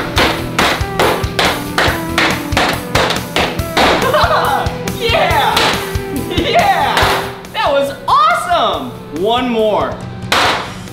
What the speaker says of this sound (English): This hammer is only used to smash this big bar of chocolate